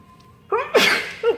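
A hay fever sneeze bursts out close and loud, a sharp inhaled build-up followed by the explosive sneeze and a shorter trailing snort, heard alone without talk.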